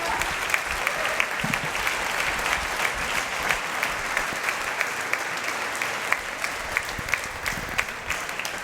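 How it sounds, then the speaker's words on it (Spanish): A church congregation applauds in a steady, dense wash of clapping that holds at an even level throughout, with faint voices mixed in beneath. "Dele un aplauso al Señor."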